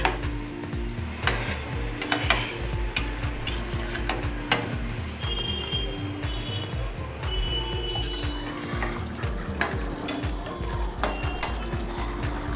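Chicken curry with coriander paste and added water bubbles in a cooking pot, a continuous close simmer broken by irregular clinks and scrapes against the pot.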